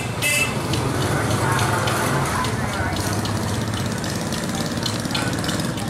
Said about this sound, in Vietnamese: Đây động cơ đây các bạn ơi